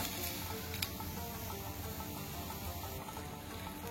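Spices and coconut for sambar roast in a hot pan, a steady soft sizzle and crackle running throughout with faint scraping, close by and without talk.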